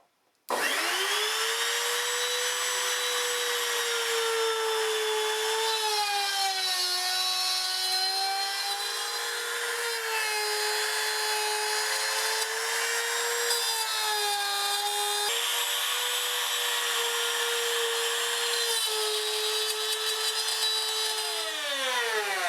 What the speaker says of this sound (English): I've got my router cutter extended probably about 10 mil at the moment